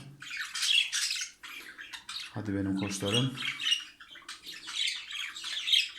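Budgerigars squawk and chirp in rapid, close bursts during courtship, with a person briefly talking in the middle.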